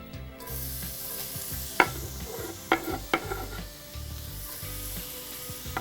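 Chopped onions sautéing in extra virgin olive oil, a steady broadband sizzle with a few sharp clatters of a utensil or pan across the clip, no voices.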